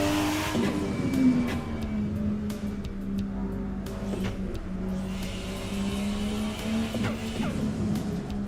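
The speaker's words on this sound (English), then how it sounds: "The sound of the turbo is pretty good." Turbocharged BMW E46 M3 engine in a driving video game: a sustained, close engine drone rising and falling through revs and gear changes, with brief whooshing and chattering transients over the top.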